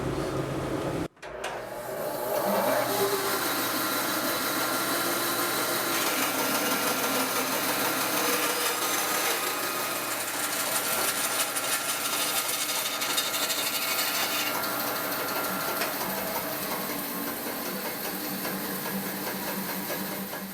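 A 14-inch Rikon band saw cutting wood runs continuously after a brief startup pause, a steady loud whine mixed with a rough rasping hiss from the blade.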